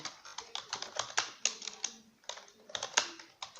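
Rapid, irregular clatter of a computer keyboard as HTML is typed, close and crisp, with short pauses between bursts of keystrokes and no voices.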